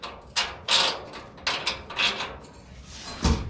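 Ratchet working a body mount bolt loose on a Ford F1 hot rod crossmember, a run of short metallic clicking and grinding bursts close by with no talk.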